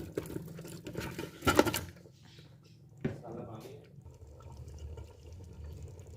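Beef trotters go into a cooking masala with a wet, squelching plop and a short sizzle-and-splash burst, followed by a second softer drop and quiet bubbling, while someone talks.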